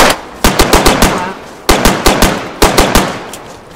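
Rapid gunshots in DayZ, three close bursts of sharp cracks, about four to five shots each, loud and evenly spaced with short pauses between groups.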